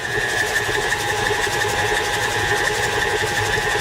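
An electric mixer creams butter with granulated sugar for a chocolate sour cream cake, a continuous whirring motor hum with a fast, even rattle, steady and close throughout.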